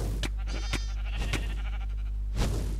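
A Minecraft sheep bleats a few short times over a constant low in-game hum during survival gameplay, with no one speaking.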